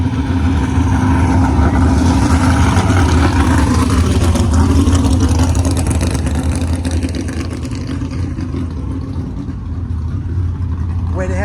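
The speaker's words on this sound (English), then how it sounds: "That looks like a small block Chevrolet of some sort." A gasser drag car with a small block Chevrolet engine, likely stroked, roars loud and close at a test and tune session, a steady throaty drone that eases slightly toward the end.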